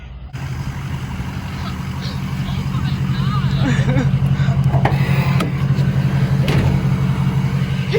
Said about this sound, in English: Oh, I left my truck on that whole time.